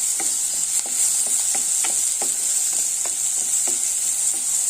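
Green mango and green chili fry in a pan with a constant bright sizzle while a utensil stirs through them, scraping and tapping at an uneven rhythm close by.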